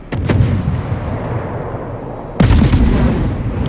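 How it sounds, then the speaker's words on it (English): Warship main battery guns fire in a World of Warships naval battle: a deep booming salvo rolls out and decays, then a second heavy blast lands near the end, loud with no talk. "those two ships are now getting just destroyed by main battery fire"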